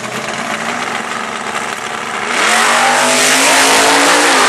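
A drag racing car launches hard off the start line at a Mont-Joli drag strip, its loud engine note rising sharply as it pulls away, roaring continuously and close with no talk.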